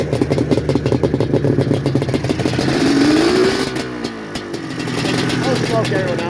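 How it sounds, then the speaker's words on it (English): A 1980s Honda Interceptor race motorcycle rides along the road, its engine note rising and falling close by, while a voice talks over it. "Brian Kenny's old race bike back on the road"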